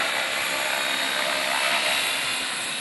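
An RC model helicopter flies at a pilots' event, its rotor and motor giving a steady, dense whine and buzz that holds evenly loud and close throughout, with no talk.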